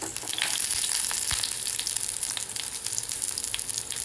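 Onions frying in a traditional stone pot, a dense, continuous close-up sizzle with soft crackles scattered throughout, no talking.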